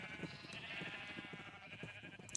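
A faint, wavering sheep bleat in the Minecraft video game, drawn out over a couple of seconds against quiet background sound.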